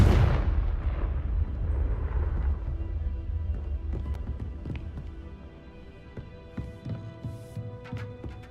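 A Confringo blasting spell explodes in the video game Hogwarts Legacy: a loud, deep boom bursts out at the start, then rumbles and slowly fades beneath scattered clicks and tones from the game.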